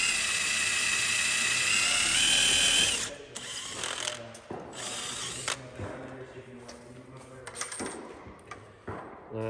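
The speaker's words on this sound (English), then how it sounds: "We're going to use 3 different drill bits to get up to the correct size we need." A power drill whines loudly for a few seconds as a bit bores through metal for chrome parts on a Peterbilt 389 truck, then stops, leaving clicks, clinks and tool handling with brief bursts.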